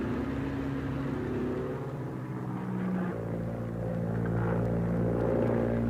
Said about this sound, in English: one of our aircraft, an Avenger, returns with a missing left wheel and makes a safe landing